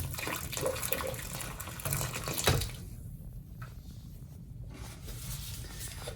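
Water gurgles down a partly clogged sink drain after unclogging treatment, a loud rushing flow that surges then drops to a quieter steady trickle; no speech.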